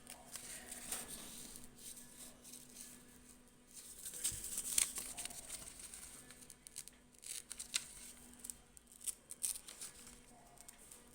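Origami paper from Daiso, cut in half, is torn by hand in quiet, close crinkling and ripping sounds, with a few sharper tearing bursts amid soft paper handling, no voices.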